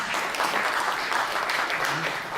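An audience at a foundation's anniversary seminar claps to welcome a presenter, a brisk, continuous burst of applause from a room full of people with no talk over it.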